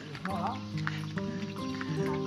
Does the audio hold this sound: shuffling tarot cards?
no